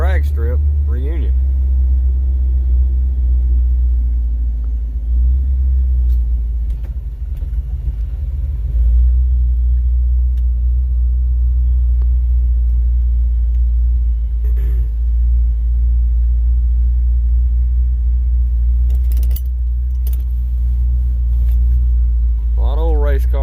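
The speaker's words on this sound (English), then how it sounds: "A lot of old race cars here today." Old race car engines idling at the 13 Forks Dragstrip reunion in Elberton, Georgia, a loud, continuous low rumble throughout, with brief lighter sounds now and then.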